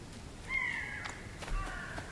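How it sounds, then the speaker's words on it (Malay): A cat meows in the video game Hello Neighbor 2, two short, thin meows heard faintly against quiet game ambience. "Kucing."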